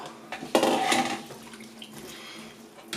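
Water with potato pieces is poured into a pot of homemade mushroom soup, a short splashing gush followed by fainter sloshing, close and alone.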